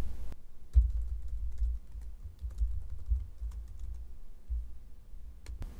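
Login details are entered on a computer keyboard in a run of quick, light, irregular key clicks. A low hum sits underneath, and a sharp click opens and closes the passage.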